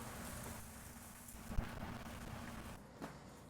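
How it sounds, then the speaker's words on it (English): Soft, steady rain patter with a low, quiet background hiss and a couple of faint knocks. "The sounds of the rain."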